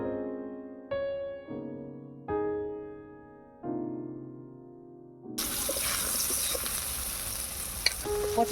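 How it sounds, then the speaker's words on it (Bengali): Washed pointed gourd (potol) frying in mustard oil with salt and turmeric in a kadai, a loud, dense hiss of sizzling that rises abruptly after a few sustained tones and holds steady to the end. "পটলটাকে নুন হলুদ দিয়ে প্রথমে ভেজে নেব।"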